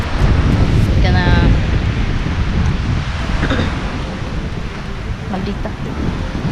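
Steady blustery wind roars across the microphone by the sea at Carnaza Island, a continuous rushing noise with faint surf underneath.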